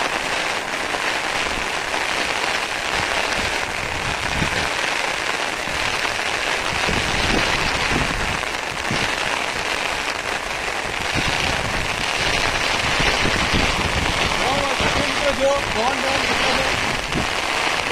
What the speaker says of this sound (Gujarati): ફૂલ વરસાદ આવવાનું ચાલુ થઈ ગયું છે અને પવન સાથે વરસાદ છે